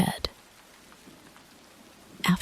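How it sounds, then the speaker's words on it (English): Soft, steady rain patters against the glass of a train window on a rainy alpine night train, a faint continuous hiss with brief louder knocks at the start and end. "Rain tracing the glass in thin diagonal ribbons beside your head."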